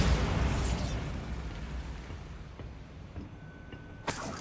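A Bombarda spell detonates in Hogwarts Legacy, a loud, booming blast that rumbles and slowly fades over a few seconds, then a short, sharp burst near the end.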